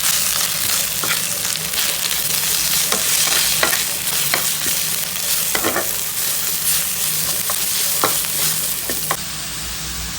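Cumin, coriander and chili fry with browned garlic in hot oil, giving a steady, close hiss with a few scattered pops and light stirring taps.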